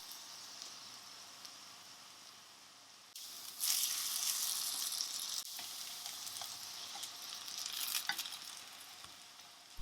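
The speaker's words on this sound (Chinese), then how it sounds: "油热之后就下入面糊，保持中小火来煎制。" Zucchini and egg pancake batter frying in oil in a pan over medium-low heat, a steady close sizzle that jumps louder partway through and keeps crackling alone without talk.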